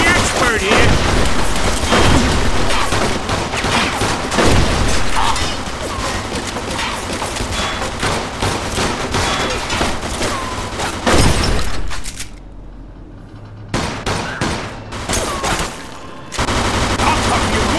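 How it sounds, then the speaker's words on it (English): Rapid gunfire from a shootout in Mafia 2 fills the scene: dense, loud bursts and shots with shattering impacts, briefly thinning near the end before resuming, and voices mixed in. "They're shooting at me, for Christ's sake!"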